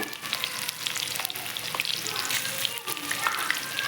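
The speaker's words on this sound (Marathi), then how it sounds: "अशा पद्धतीने वड्या टाकून घ्यायच्या आणि मस्त अशा छान अशा भरपूर रंग येईपर्यंत छान तळून घ्यायच्या" Spinach vadi (palak vadi) pieces deep-fry in hot oil, a dense, crackling bubbling sizzle with sharp pops, heard close and steady throughout.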